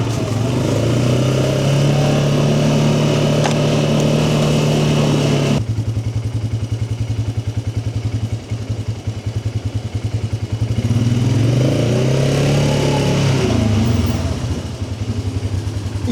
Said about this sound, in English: we're going to drive it around a bit, even though it's absolutely freezing, but to heat up the oil